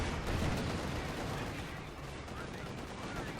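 An anti-tank gun fires in a Wehrmacht-versus-Soviets strategy video game, heard as a faint, dense rumble of distant shots and battle noise running throughout.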